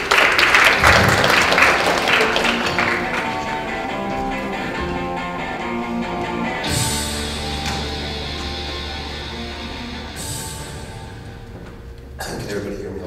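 Audience applause welcoming a presenter at a search marketing summit talk, a broad wash of clapping through the start that thins and fades over several seconds, with music and a voice underneath.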